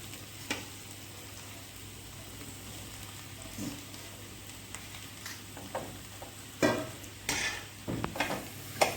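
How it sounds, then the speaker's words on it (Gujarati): Boiled potatoes are stirred into spiced masala in a pan for mirchi vada. Quiet scraping and clinking strokes come irregularly over a soft background, growing a little busier and louder toward the end. "અને આવી રીતે આપણે મિક્સ કરી લઈશું બધો મસાલો"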